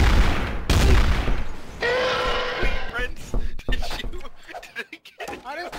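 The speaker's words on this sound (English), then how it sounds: "You just started shooting me!" Gunfire in the Garry's Mod Trouble in Terrorist Town game mode, sharp shots and bursts mixed with thumps, loud and close, with people talking excitedly over it.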